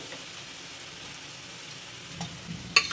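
Liver sizzling in oil with ginger and garlic, a soft continuous hiss close by with a few faint stirring clicks and a sharper clink near the end.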